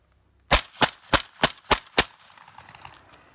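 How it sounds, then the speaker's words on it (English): A suppressed short-barreled rifle fires 115 grain jacketed frangible subsonic rounds: six sharp, close cracks in a quick even rhythm, followed by a brief fading tail. "This is our 115 grain, jacketed, frangible, subsonic round."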